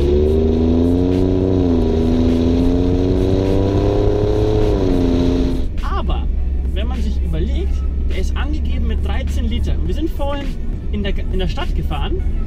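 A 2017 Ford F-150 Raptor with a 3.5-litre twin-turbo V6 rumbles loudly close by, its steady drone wavering in pitch before settling into a rougher, gritty idle with intermittent crackles.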